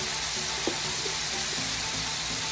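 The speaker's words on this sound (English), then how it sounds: "Make sure this butter is melting." Butter melts in a pan for spicy honey butter fried chicken, giving off a soft, steady sizzling hiss with faint crackles and no talking.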